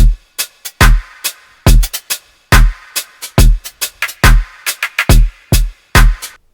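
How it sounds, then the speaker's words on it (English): Sparse, minimal electronic drums with added overdrive and reverb hit in a punchy, uneven pattern of heavy kicks and bright snares, each loud distorted hit ringing briefly before the next. "And the drums altogether sound like this."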